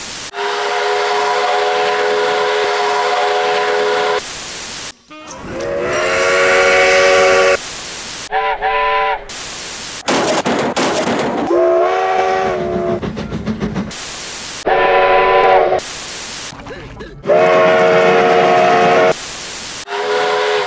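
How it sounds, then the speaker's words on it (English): The Sierra Railway No. 28 steam locomotive sounds its whistle in a series of loud, close blasts, some long and some short, with hissing steam and changing chime tones between them. "What do you think of my new steam whistle?"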